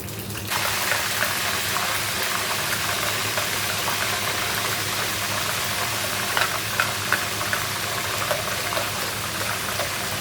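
Onion paste frying in hot oil for a Lahori chana recipe: a steady, loud hiss and bubbling sizzle that starts abruptly and continues evenly, with no talking.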